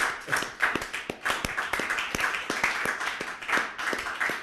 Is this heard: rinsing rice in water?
no